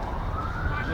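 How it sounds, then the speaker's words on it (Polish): A police car siren wails in a Warsaw street, its steady rising tone sitting under heavy low traffic rumble and nearby voices. "Jedzie policja, państwo zobaczą."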